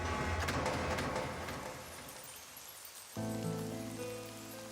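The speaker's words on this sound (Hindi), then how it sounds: "ये बारिश कैसे शुरू हो गई?" Steady hiss of rain patters for a few seconds, then a sustained tonal rumble like a passing train takes over.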